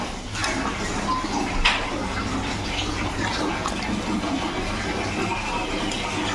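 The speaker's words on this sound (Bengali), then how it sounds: "এবার আমি গরম জলটা এর মধ্যে দিয়ে দিচ্ছি পরিমাণ মতো।" Hot water is poured into a pan of Bengali chicken curry with potato and papaya, a steady close rush of liquid that runs continuously for several seconds with a brief clink partway through.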